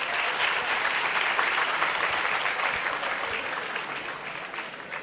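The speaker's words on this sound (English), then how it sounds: "Applause for everyone," Sustained applause from an audience at an indoor air pollution awareness symposium at a university in Islamabad, a dense, steady clapping that fills the whole stretch without talk.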